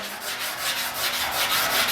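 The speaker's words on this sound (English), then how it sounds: "Now I'm running a little heavier sandpaper here" A sanding block with heavier sandpaper rubs back and forth across a 1950 Chevy truck body panel in rhythmic strokes, a gritty, close scraping with no talk.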